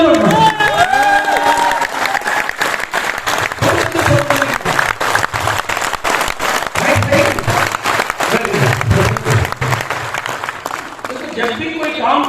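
Audience applause at a talk, a loud sustained clapping crowd with some cheering, steady throughout and fading slightly near the end.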